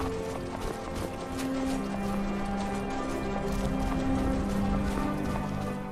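Horse hooves clip-clop steadily across the ground in the open-world game Skyrim, a continuous near rhythm of hoofbeats beneath ambient game music, with no talking.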